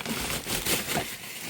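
Dense rustling and crinkling of a bag, close and continuous, with irregular scuffs as a cat shifts around inside it.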